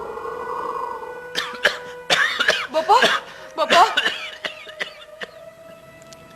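Several sharp coughs come in quick bursts, close and fairly loud, with a steady tone humming underneath and a short spoken word among them.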